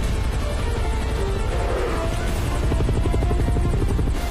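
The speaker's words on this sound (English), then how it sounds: "we debated many times how high the helicopter can be" Helicopter in an action film scene, a loud continuous rotor thrum and whine filling the whole stretch with no voices.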